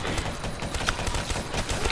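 Rapid bursts of gunfire in Call of Duty Black Ops 3 Zombies, dense overlapping shots hammering continuously over game ambience.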